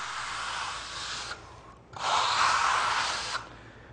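A flat trowel slides across a limestone plaster finish, giving a steady broad scraping rub in two long strokes separated by a brief pause, close and fairly loud.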